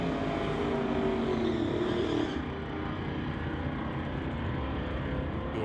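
Drag race cars launch off the line together at a Summit ET bracket race, a loud sustained engine roar with a shift in pitch partway through, steady and continuous with no talk.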